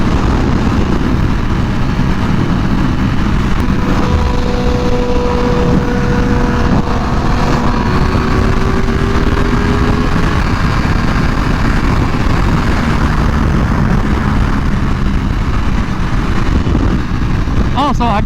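Ducati Panigale V4R motorcycle engine droning steadily while riding at sunset, a loud continuous roar with wind rush and shifting pitch as the bike revs through gears.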